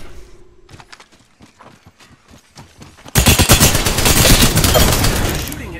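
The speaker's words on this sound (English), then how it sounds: "They're shooting at me." Gunfire in Apex Legends: sparse rapid clicks and single shots, then a loud, dense sustained burst of automatic fire up close that carries to the end.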